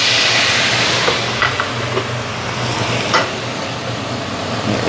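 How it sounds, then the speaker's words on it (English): White wine sizzles as it deglazes a pan after cooking schnitzels, a loud, steady hiss with a few faint scrapes against the pan. "now we are going to take white wine and deglaze the pan"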